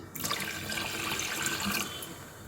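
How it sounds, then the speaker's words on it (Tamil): Steady stream of water pouring into a cup while making homemade condensed milk, a continuous close splashing hiss that runs without pause for a couple of seconds. "இன்னொரு கப்பு தண்ணி ஊற்றிக்கலாம்"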